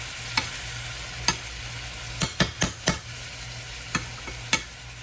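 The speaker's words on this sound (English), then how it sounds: "Just gonna stir them up in there." Beans being stirred in a pan with potatoes, a spoon scraping and knocking in scattered strokes, some in quick clusters, over a soft steady cooking hiss.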